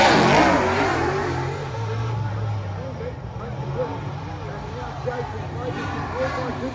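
Race cars circle a speedway at Waikaraka Park, engines droning and revving at a distance beneath a commentator talking over them.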